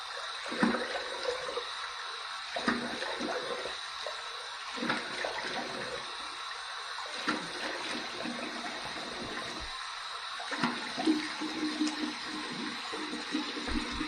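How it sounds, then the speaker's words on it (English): Warm water splashes and runs as a face is rinsed after a wet shave, with irregular bursts of splashing and trickling over a steady running-tap hiss, fairly faint and close, with no talking. "Here's my warm water rinse."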